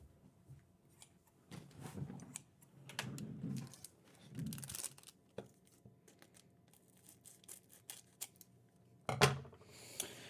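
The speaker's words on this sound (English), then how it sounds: "I'm gonna get some scissors. I don't want to ruin the cards." Scissors snip and crinkle through the foil wrapper of a trading card booster pack, a series of close, crisp cuts and rustles with short pauses between them, no talking.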